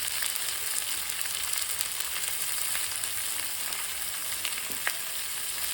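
Pieces of bottle gourd hit a hot pan of oil and sizzle loudly and steadily, a dense continuous frying hiss with occasional stirring scrapes and small pops, heard up close.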